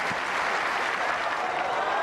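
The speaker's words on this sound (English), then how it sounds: "A huge cheer." A stadium crowd at Stockholm Olympic Stadium cheering and applauding a successful pole vault at a Diamond League meet, a dense, steady roar of clapping and cheers filling the whole stretch.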